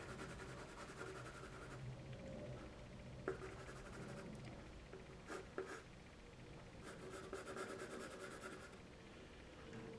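Colored pencil scratching across paper while shading hair on a sanguine portrait, soft continuous strokes in bursts with brief pauses, close and quiet, no talking.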